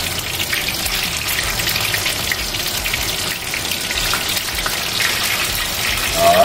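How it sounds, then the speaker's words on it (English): Shrimp deep-fry in oil with a continuous, bright crackling sizzle close by. The sound is steady and hissy, with small bursts of popping. "They're gonna fry up nice."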